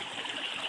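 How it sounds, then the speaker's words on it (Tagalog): A forest river streams along steadily, a soft continuous rush of flowing water with gentle gurgles, faint and unbroken throughout with no voices. "ayan ang ilog mga kababayan"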